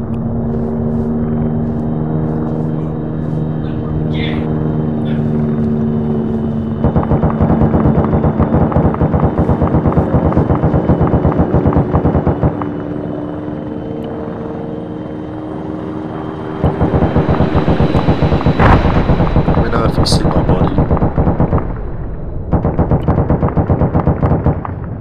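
Heavy war vehicles and bombs in a video game make a dense, continuous roar of rotor-like thumping and rapid gunfire that swells and drops in blocks, with brief sharp bursts standing out over the din.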